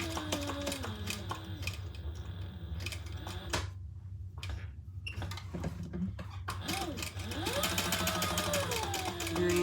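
A sewing machine stitches the angled bottom edges of a coin pouch, its rapid mechanical rattle running close and loud in bursts with short stops between passes, with a voice speaking briefly.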